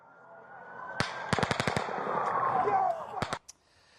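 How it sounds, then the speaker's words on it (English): Rapid bursts of distant automatic gunfire during the Las Vegas shooting, recorded on police body camera, with sharp clustered cracks over crowd commotion and a siren-like tone. "There's gunshots coming from over there!"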